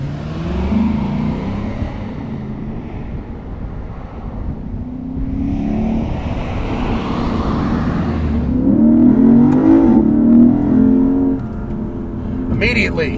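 A Lexus IS500 V8 engine revs and accelerates in Sport Plus mode inside the sports sedan, a steady low roar that climbs and swells to a loud peak, with talk running over it throughout.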